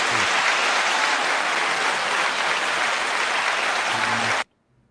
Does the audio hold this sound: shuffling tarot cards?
no